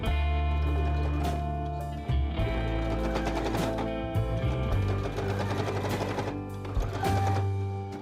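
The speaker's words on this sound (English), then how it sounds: "So now we're going to just sew right on the edge, top stitch where our pins are." A sewing machine top stitches along the edge of a patchwork quilt jacket collar in fast, continuous mechanical runs broken by short stops, close-up with no voices.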